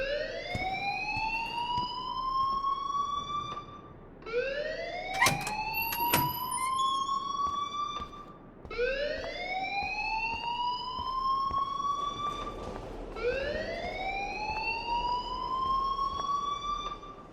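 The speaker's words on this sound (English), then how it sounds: "please turn off that alarm since that's your job" An alarm in Life Is Strange wails in four rising, swooping siren cycles, each lasting about three seconds with brief gaps between them, loud and steady, with a few faint clicks underneath.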